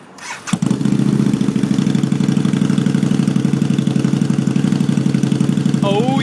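A Harley-Davidson V-Rod motorcycle fitted with a Mark Daynes custom exhaust starts up and settles into a loud, steady, throbbing idle right up close, with a brief faint whistle near the end.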